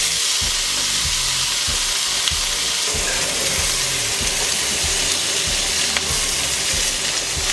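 Pork belly sears in a hot pan for a poutine, a steady loud sizzle and crackle running throughout with occasional low thuds of the pan or utensil, no voices.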